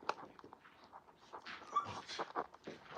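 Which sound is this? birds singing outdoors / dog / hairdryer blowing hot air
dog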